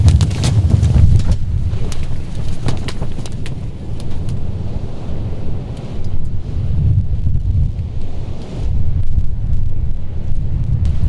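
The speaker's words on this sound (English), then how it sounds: "Oof, it's really windy." Strong gusty wind from an approaching dust storm buffets the microphone with a loud, continuous low roar that swells and eases, with brief crackles throughout.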